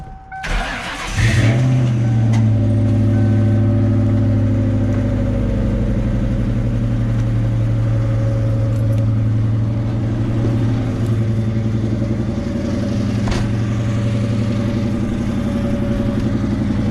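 A 1984 Chevrolet Camaro Z28 engine cranks briefly and fires up, then settles into a loud, steady, rumbling idle as it warms up, continuing unbroken for the rest of the recording.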